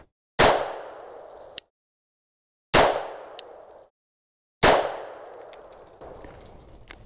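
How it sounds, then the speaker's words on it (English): Three loud, sharp shots from a stock Glock 34 pistol with original Glock rifling, firing silver bullets outdoors, spaced about two seconds apart, each with a long ringing decay and no talking. "Now let's put 3 rounds through a stock Glock 34 with the original Glock rifling"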